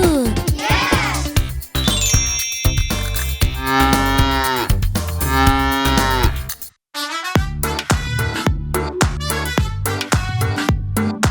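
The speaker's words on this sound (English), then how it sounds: "The cow goes moo, moo." Cartoon cattle mooing among farm animals, several drawn-out moos with strong harmonic tones, loud and close over playful children's music, with short pauses between calls.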